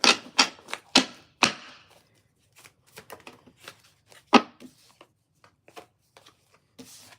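Tarot cards riffle and snap in quick bursts, a flurry of crisp shuffling followed by sparser taps and flicks, close and fairly quiet.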